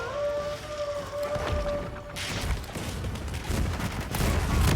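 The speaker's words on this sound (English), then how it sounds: "that was a big explosion" A big in-game explosion in Monster Hunter Wilds during an Arkveld hunt, a dense burst of broadband rumble and crackle that swells midway and keeps roaring loudly to the end, with a faint tonal whine beneath at first.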